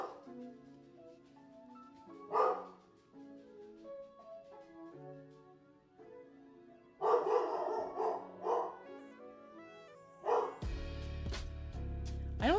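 Dogs bark indoors in bursts of several sharp woofs each, separated by quieter stretches with some whining, growing louder and busier toward the end.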